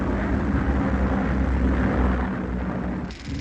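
Aircraft E97 approaches, a dense, loud, steady engine roar that fills the whole stretch and eases slightly near the end, with no voices.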